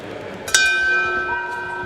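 A single ringing strike of a boxing ring bell signals the start of round one at the 2024 World Boxing Cup Finals in Sheffield, its clear tone hanging briefly over crowd murmur in the arena.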